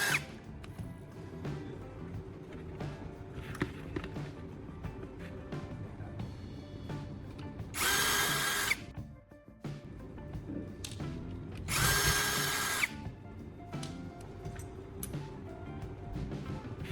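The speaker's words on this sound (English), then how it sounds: "I located the screws holding it in place and used the power drill to carefully unfasten them." A power drill unfastens the screws that hold the main induction coil of an old induction stove. Two loud whirring bursts, each about a second long, stand out over quieter handling clicks and rattles.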